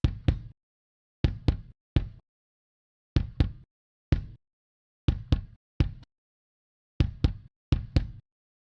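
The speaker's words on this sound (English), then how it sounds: "It does make a huge difference in the sound of the kick." Punchy kick drum hits sound alone in short groups of two or three, dry and close, with silence between each pattern.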